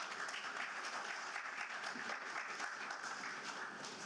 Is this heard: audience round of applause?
yes